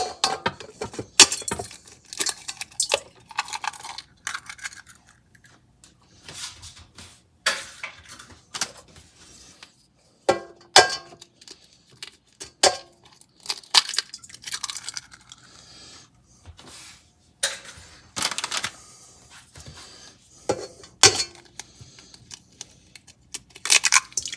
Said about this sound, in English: Then get a stand mixer or hand mixer and put in 3 eggs.